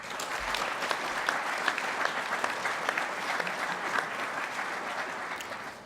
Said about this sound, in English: So I expect an enormous round of applause for CIT,